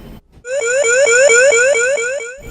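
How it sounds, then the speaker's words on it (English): A loud hospital barcode-mismatch alarm sounds in a rapid repeating pattern of rising beeps, about eight pulses over two seconds, with a steady high tone above. "an alarm goes off to notify staff"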